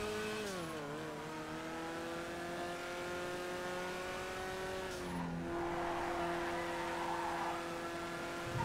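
A Stinger sports car engine in GTA FiveM drones steadily and loudly throughout, its pitch dipping near the start and dropping again midway as the car shifts or slows, with a faint hint of tire noise and no talking.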